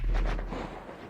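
Distant explosion in the GTA V video game, a low, muffled rumble that swells at the start and slowly fades over about a second, heard alone with no talking.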